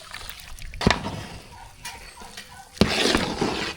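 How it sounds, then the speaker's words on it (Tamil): Tamarind water poured into a pot of sambar being cooked with rice, heard as a few short, soft splashing bursts of liquid close by. "அதோட புளி தண்ணி சேர்த்துக்கலாம்"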